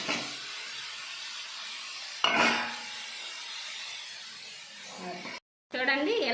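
Onions and green chillies fry in a pan with a steady soft hiss, broken by a sharp clatter partway through, then brief silence before the sizzling resumes.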